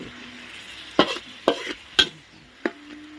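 Pork and garlic being stir-fried in a pan: a faint sizzle under four sharp scrapes and clacks of a spatula, spaced about half a second apart.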